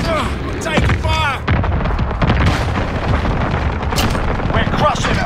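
Heavy explosions from a white phosphorus strike in Call of Duty: Modern Warfare, deep booming blasts and rumble layered with gunfire, while voices speak through the barrage.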